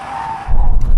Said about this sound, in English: Floor it. I'm getting a lot of understeer.